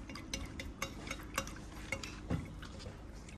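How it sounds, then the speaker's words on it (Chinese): Yeast being stirred into warm water in a basin for pizza dough, giving soft repeated scraping and light clinks of a utensil against the bowl at a close, steady rhythm. "给它搅拌搅拌，老二， 搅拌"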